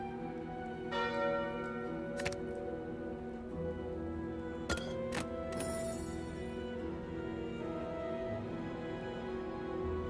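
A ringing bell relic from the video game Slay the Spire: sustained, resonant church-bell-like tones with a few sharper strikes layered over a steady chiming background, fairly quiet with no talk.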